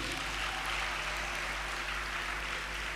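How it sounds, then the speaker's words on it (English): A seated audience at an early childhood professional development gathering claps steadily for a few seconds, a fairly even patter over a low electrical hum. "Clap him again"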